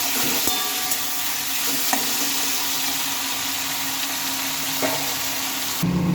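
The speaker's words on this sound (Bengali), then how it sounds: "টমেটোটাকে বেশ ভালোভাবে নেড়ে নেড়ে নিতে হবে" Diced tomato fries in a pan, a steady, dense sizzle running throughout while a utensil stirs it, with a few soft knocks against the pan, close and even in level, and no talking.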